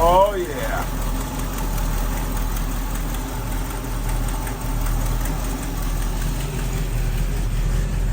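The exhaust of a 1970 Ford Mustang Mach 1 idles after its first cold start of the year, a loud, deep, steady rumble that continues throughout, with a brief rising whine at the start.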